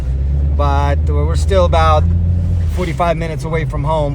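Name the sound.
car driving out from a snowy mountain trip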